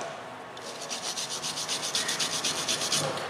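A brush or swab scrubbing a circuit board connector with isopropyl solution, making quick rhythmic back-and-forth rubbing strokes, close and fairly soft, with no talking.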